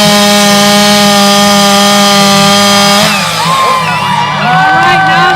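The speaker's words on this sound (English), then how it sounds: "Now they're going to grab that chainsaw," A chainsaw roars loudly at a steady high pitch at a state fair competition, then bogs and wavers as it saws the end off a log, the engine note sliding up and down.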